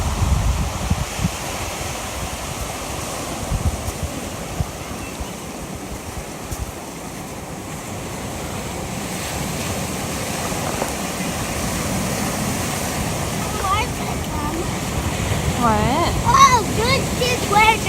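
Ocean surf rolls and crashes onto a rocky Los Angeles County beach, a loud continuous roar with wind buffeting the microphone throughout.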